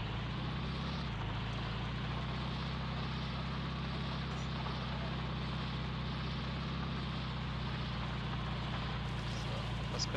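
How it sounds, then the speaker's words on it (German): A tractor engine drones steadily at close range while driving in the video game Heroes & Generals, a constant low rumble that holds evenly from start to finish. "Ich muss auf den Traktor umweichen."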